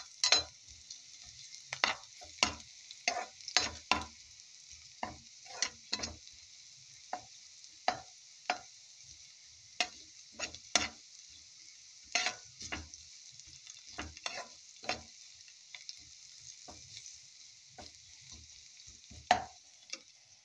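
Egg yolk being mixed in a bowl, with irregular sharp clicks and taps of a utensil against the bowl over a steady faint hiss, continuing for a long stretch.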